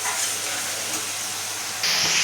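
Chicken pieces added to a pan of hot spice masala hiss with a broad, steamy sizzle that swells sharply louder near the end, close and without talk.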